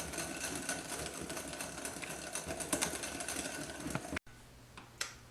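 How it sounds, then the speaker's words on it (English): Pancake batter of sugar and melted butter beaten hard in a bowl, a dense rapid rattle of whisking that runs steadily for about four seconds, then cuts off to near quiet with a couple of faint knocks. "just mix this together, and you want to make sure that you beat it really well"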